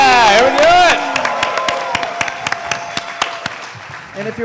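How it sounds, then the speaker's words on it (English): At a live fantasy draft event a cheer leads into scattered, sparse clapping from a small crowd, with a whoop at the start and a voice near the end. "Everybody, one more round of applause"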